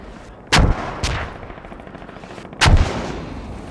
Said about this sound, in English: Keep the mortars up. Keep those going until black.